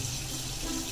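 Water runs from a faucet in a continuous, even hiss and splash, with no pauses.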